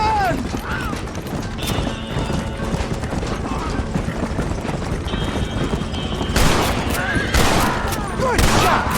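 Gunfire in Red Dead Redemption on PS3, several sharp shots cracking over hoofbeats and horse whinnies, with a voice speaking amid the commotion.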